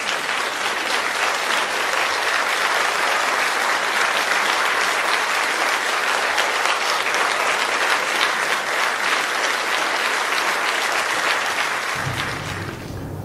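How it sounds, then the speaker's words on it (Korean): Audience applause fills the hall at the opening ceremony of an Incheon software and future-technology education festival, dense and steady for about twelve seconds before easing off at the end. "큰 박수와 함께 김영욱 대표님을 만나보겠습니다."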